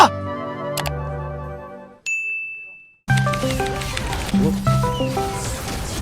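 A phone rings with an incoming call during Lost Ark play: bright chiming dings, then a sustained high tone, then a melodic jingle with music-like layered notes, fairly loud and with no talk over it.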